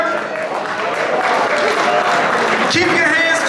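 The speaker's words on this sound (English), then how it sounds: "Keep your hands clapping for Betty Davis" Audience applause at the close of an evening program honoring Ralph Poynter, a dense steady wash of clapping from a crowd with voices mixed in throughout.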